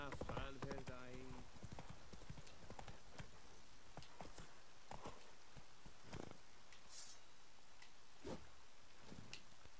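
Horse hooves clip-clop in a steady rhythm in The Witcher 3: Wild Hunt, close and clear, with a voice speaking briefly at the start.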